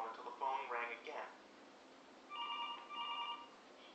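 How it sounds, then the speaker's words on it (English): A telephone rings in two electronic warbling bursts, indoors, with voices talking over the first part before the rings sound clearly on their own. "until the phone rang again"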